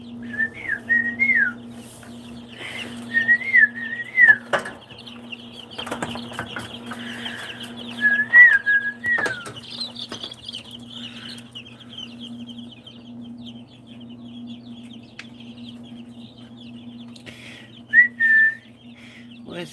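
Quail and other fowl calling in a backyard pen alongside Ayam Cemani chickens, with short chirping whistles in bursts over a steady low hum and scattered clucks.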